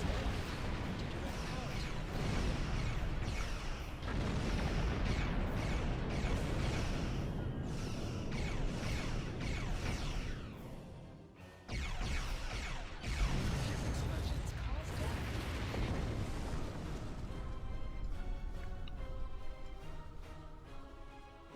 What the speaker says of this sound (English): It was a nice little mini tutorial on how ship explosions can hurt you.